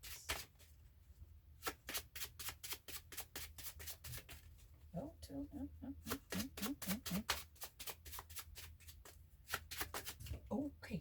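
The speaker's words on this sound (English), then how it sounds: "One more shuffle." Tarot cards riffle and patter in quick repeated bursts, close and crisp, with a brief spoken voice in the middle.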